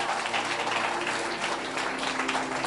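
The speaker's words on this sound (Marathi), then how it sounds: "तर सर्व शिक्षकांसाठी जोरदार टाळ्या" An audience applauds teachers at a Marathi Christian sermon gathering. The clapping is dense and steady, with no break, for about three seconds.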